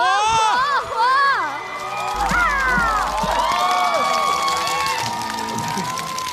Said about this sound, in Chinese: 让我们用最热烈的掌声欢迎王传君